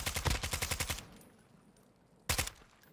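Rapid automatic gunfire in a video game, a fast burst of about a dozen shots followed by quiet, then a second short burst, sharp and fairly loud with no talk.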